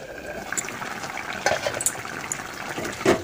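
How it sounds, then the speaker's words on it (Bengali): Vegetables for Bengali sukto simmer and bubble in a covered pot, a soft steady burbling hiss with a few brighter pops and clinks, fairly quiet and heard alone. "এবার ঢেকে দিন, এখন সিদ্ধ হতে দিন।"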